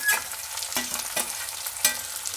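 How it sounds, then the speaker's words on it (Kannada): Onion, garlic and curry leaves frying in oil after mustard seeds pop, a soft steady sizzle nearby punctuated by three or four sharp ladle scrapes against the pan, no talking. "ಹಾಕಿ ಹುರಿಬೇಕು ಈರುಳ್ಳಿ ಟ್ರಾನ್ಸ್ಪರೆಂಟ್ ಆಗೋ ತನಕ ಇದೇ ಥರ ಎಣ್ಣೆಯಲ್ಲಿ ಬಾಡಿಸಬೇಕು"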